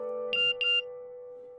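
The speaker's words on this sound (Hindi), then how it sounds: "माया का मैसेज।" A phone's message notification chimes twice in quick succession, a short bright two-note alert heard close and clear over a steady background hum, with no talking.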